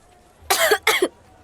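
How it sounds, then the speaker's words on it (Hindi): Two quick, close coughs in a row from one person at a police station, each a short rough burst, followed by silence. "खांसी?"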